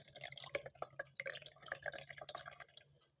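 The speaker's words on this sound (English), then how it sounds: "you just get it up carefully and move it a little bit around so the water is washing out" Water drips and drains in quick irregular patters from cheese curd being rinsed and gently moved around, with close, soft splashy drops and no voices.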